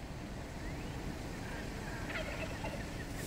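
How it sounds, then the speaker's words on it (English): Wild turkeys crossing a road in South Burlington, Vermont gobble faintly in the distance, their warbling calls thin and partly buried under steady broadband outdoor noise and traffic. "There's turkeys in the road."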